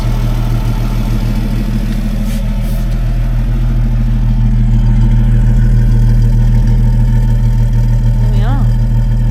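A Rover P4 with a newly fitted exhaust idles steadily and loudly close by at night, a deep continuous rumble with even pulses running throughout, no voices over it.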